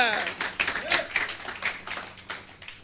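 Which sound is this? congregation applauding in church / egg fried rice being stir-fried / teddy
congregation applauding in church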